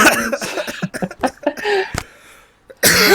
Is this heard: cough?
yes